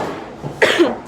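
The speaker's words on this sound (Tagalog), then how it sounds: "Guys, inuubo ako" A person gives a single short, sharp cough up close, a brief throaty burst standing alone without any speech.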